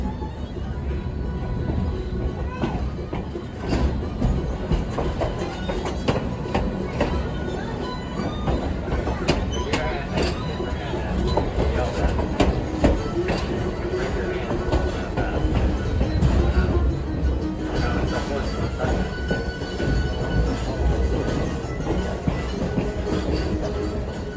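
Passenger train ride behind B&M 1860 steam locomotive at a transportation museum: steady rolling rumble with clattering wheels and rail noise throughout, a close, continuous din with faint squeals.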